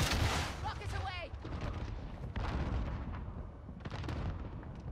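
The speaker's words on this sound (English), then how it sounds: "Rockets away." Rocket launches and explosions in Call of Duty: Modern Warfare, a burst of whooshing fire and booming blasts layered over continuous battlefield gunfire, with a player talking throughout.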